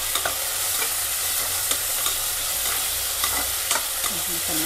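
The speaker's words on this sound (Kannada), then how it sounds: "ಅಲ್ಲಿ ತನಕ ಸ್ವಲ್ಪ ಚೆನ್ನಾಗಿ ಫ್ರೈ ಮಾಡ್ಕೋಬೇಕು ಅದನ್ನು" Tomatoes fry in a pan with cashews and almonds, a dense continuous sizzle with scraping stirs and small pops close by, no voices.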